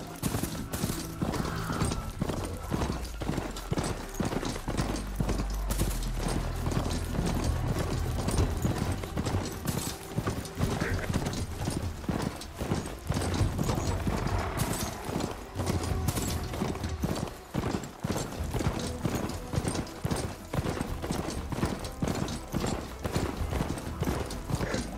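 Rhythmic clip-clop of a mount's hooves at a steady trot in the video game Horizon Forbidden West, loud and continuous with an ambient game backdrop, no talking.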